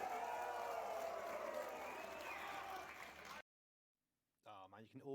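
An event audience at the Warhammer Nova Open 2023 cheers and applauds in a steady, crowded roar, then cuts to silence before a voice begins speaking.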